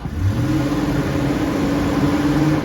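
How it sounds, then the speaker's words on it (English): A car engine held at high revs during an automatic transmission stall test, a loud steady droning whir with a sustained engine tone throughout and no let-up. "Put it in neutral, rev it up."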